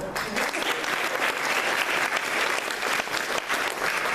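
Audience at a bar association farewell speech clapping steadily, a broad, even wash of applause that holds for several seconds without voices on top.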